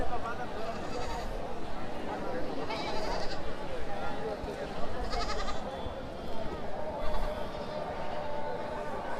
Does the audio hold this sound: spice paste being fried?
no